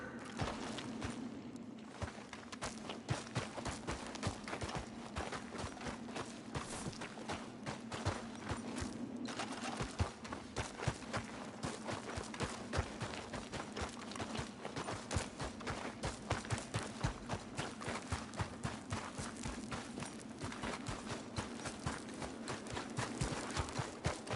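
Horse hooves clip-clop steadily through a Red Dead Redemption scene, a dense run of sharp rhythmic hoof strikes that carries on throughout, set against continuous ambient game noise with a few crackling pops mixed in.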